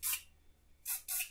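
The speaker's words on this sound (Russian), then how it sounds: "Можно добавить немного лака," Hairspray misted onto styled hair in two short hissing bursts, one at the start and another near the end with a brief gap inside it, close and fairly soft.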